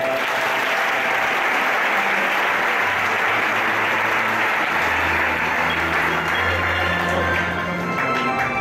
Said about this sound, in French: C'est le premier mariage de l'année. Acclamez-les.